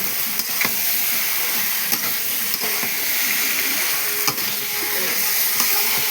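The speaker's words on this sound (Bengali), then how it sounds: "মশলা কষে নিয়েছি" Rohu fish with taro and spices sautés in a pan, a loud, continuous oily sizzle with occasional light scraping strokes of a spatula.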